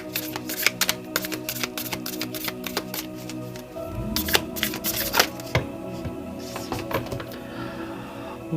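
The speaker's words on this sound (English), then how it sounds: "we're just going to shuffle them all along. It's a nice thick stack." A thick stack of cards being shuffled, with crisp rapid riffling bursts and flutters repeating over several seconds, close and clear.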